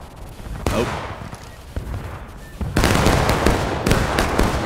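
Musket volleys and scattered shots ring out on a Smoke & Steel battlefield, a few sharp isolated cracks early, then a dense roaring fusillade of overlapping reports that keeps going to the end.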